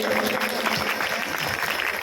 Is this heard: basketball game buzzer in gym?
no